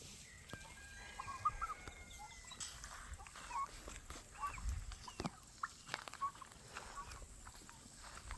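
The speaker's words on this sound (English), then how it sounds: "What did Kenneth want me to name a rooster?" Faint clucking from a rooster or hens on a Mississippi homestead comes in short, scattered calls over a quiet outdoor background, fairly distant.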